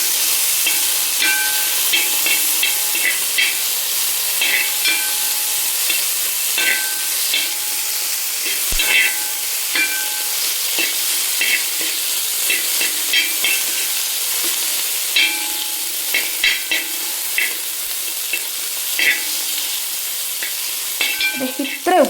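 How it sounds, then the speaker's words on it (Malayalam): Tomatoes frying in a pan, stirred well: a constant bright sizzle for over twenty seconds, overlaid with frequent light clicks and scrapes of a spoon moving through the pan, close and without speech. "ഇതാ തക്കാളിയും കൂടെ ഇട്ടിട്ടുണ്ട് നന്നായിട്ട് ഇളക്കാം"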